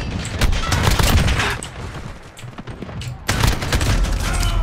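Gunfire in Call of Duty Modern Warfare comes as loud, rapid bursts of shots and crackling fire, dipping briefly mid-way before another sharp volley resumes.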